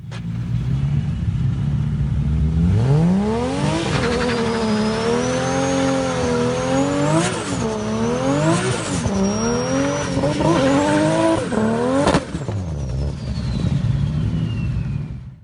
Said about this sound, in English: Now we move on to our first HKS T51R GT-R.